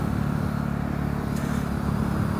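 A 2016 Husqvarna 701 supermoto engine with an Akrapovic exhaust idles steadily nearby, a low, even, throbbing rumble with no revving and no voices.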